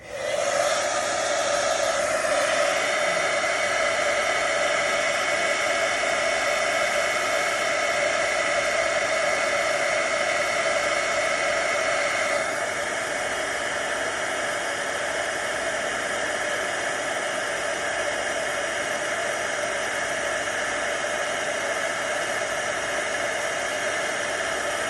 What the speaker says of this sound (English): I'm gonna start my heat gun. It makes a little bit of noise, but I'll be as quick as I can.